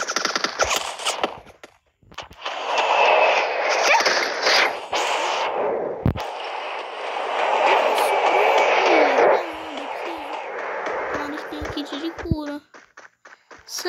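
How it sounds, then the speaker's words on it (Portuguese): Pistol shots from the video game Free Fire, sharp brief cracks scattered under a steady wash of game noise and continuous talking, with a few clustered taps near the end. "Vou dar um tiro aqui de pistola."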